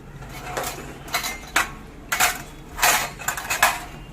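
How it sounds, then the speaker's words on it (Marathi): Cups and plates are stacked and put away in a home kitchen, with bursts of ceramic clinks and clatters in separate clusters, near and fairly loud. "सगळं व्यवस्थित लावायचं. हे कप इथं, त्या प्लेट इथं"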